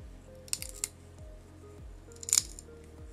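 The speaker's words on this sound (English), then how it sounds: "That sound is known as the tin cry." A bar of pure tin bent by hand gives off a few faint, brief crackling squeaks, clustered early and again near the end, quiet and close with no speech.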